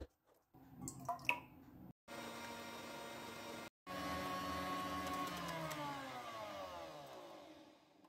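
An electric kitchen mixer runs steadily while whipping egg whites for a meringue cake, with a droning whir that cuts out briefly twice, then continues with its pitch slowly shifting as the whites thicken.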